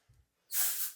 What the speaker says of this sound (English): You can add texturizing spray to just give it a little bit more